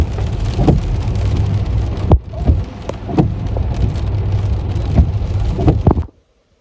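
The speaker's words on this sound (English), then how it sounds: "So just staying dry because it's raining out there." Rain pours steadily outside, a loud broadband hiss with sharp drips and knocks on a nearby surface, cutting off abruptly at the end.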